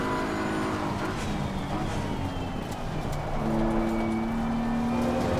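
A Mercedes-AMG GT3 race car engine in a racing video game at Spa-Francorchamps, a continuous engine drone with gear shifts and rising revs near the end, moderately loud with no talking.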